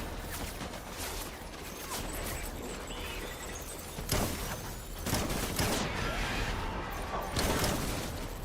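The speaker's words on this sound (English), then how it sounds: "Alright, we got a shotgun now." Shotgun fire in a video game, several loud broadband blasts spaced irregularly over a busy bed of game noise, the sharpest bursts arriving toward the end.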